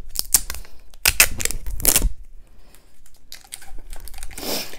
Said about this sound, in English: let me take the tape off